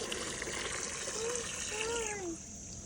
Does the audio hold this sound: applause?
no